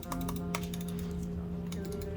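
Rapid clicks from the buttons of an ultralight gaming mouse sound in a quick irregular series, crisp and close but quiet, over a faint steady hum.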